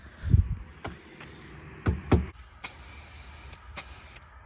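An aerosol can sprays rust treatment onto a Nissan 300ZX car body in several sharp hissing bursts, some short and one longer, between soft clunks and handling noises.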